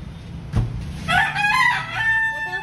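A rooster crows close by on a home poultry yard, one long crow starting after a brief thump, loud and drawn out with a wavering tail, heard alone without talk.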